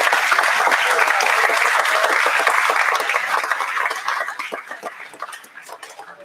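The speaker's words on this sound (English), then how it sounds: "let's give everybody a round of applause for the donation." Audience at a high school welding competition applauding sponsors for a donation, sustained loud clapping that fades and thins toward the end.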